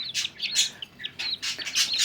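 Nestling birds left without their mother chirp in quick, high, repeated bursts, close by and fairly loud, with short pauses between clusters of calls.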